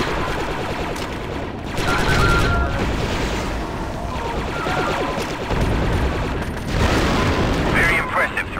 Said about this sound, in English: Now lob the grenades at that gun position.